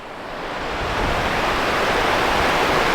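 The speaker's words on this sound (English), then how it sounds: "There's the river." A river in Spruce Pine, swollen and reshaped after Hurricane Helene, rushes in a steady, loud broadband roar that swells slightly at first and then holds continuous, with no voices over it.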